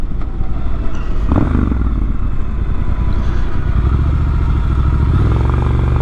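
A motorcycle rides a twisty, curvy paved mountain road through Tennessee hollows, its engine loud and steady with rising and falling revs, heard close throughout with wind rush and no talk.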